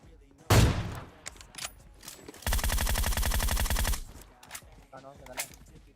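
AWM sniper rifle fire in PUBG Mobile, a sharp loud shot followed by a denser burst of rapid gunfire lasting over a second, with scattered game noises around it and no speech.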